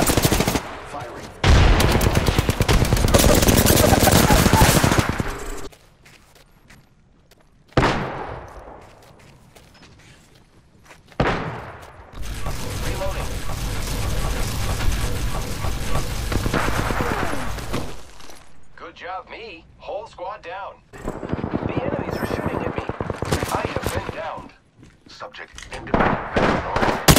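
Apex Legends gunfire crackles in loud, rapid automatic bursts separated by short quiet gaps, with sharp single shots, impacts and game effects between them, and voices talking at times.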